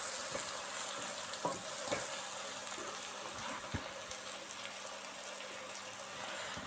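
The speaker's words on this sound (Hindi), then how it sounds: "ये हमारी सब्जियां जो हैं वो अच्छे तरीके से फ्राई हो चुकी हैं।" Vegetables and chicken fry in a pan for macaroni, a steady close sizzle with occasional stirring clicks and scrapes running throughout.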